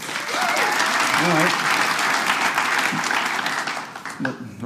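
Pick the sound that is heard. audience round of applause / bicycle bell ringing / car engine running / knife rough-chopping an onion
audience round of applause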